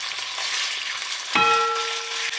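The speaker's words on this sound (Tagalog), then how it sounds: "ilalaglag na natin yung ating chicken. Yan. Pa-fried natin yan." Chicken pieces dropped into a pan of hot olive oil sizzle with a steady, loud crackle and hiss, and a brief metallic scrape and ring mark the moment they go in.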